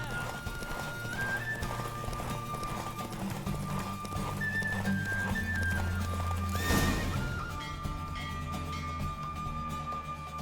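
Hooves clip-clopping at a fast, steady gallop in The Witcher 3, with a horse whinnying midway over a game music bed, all fairly close and continuous.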